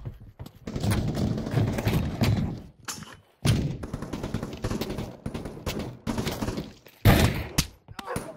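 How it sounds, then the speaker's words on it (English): Gunfire rings out in the VR shooter Pavlov VR: several loud bursts and single shots, separated by brief silences, close and sharp throughout. "I just shot at you, dude"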